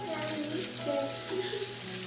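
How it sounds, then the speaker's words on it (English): Pork is stirred into a hot frying pan with a soft, continuous sizzle while voices talk over the cooking. "Now that it's golden brown, we're gonna mix in the pork."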